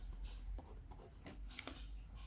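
Pen writing by hand on paper while a maths problem is worked out, short faint scratching strokes in quick irregular bursts with no talk.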